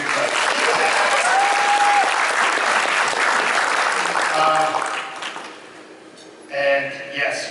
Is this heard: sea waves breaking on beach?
no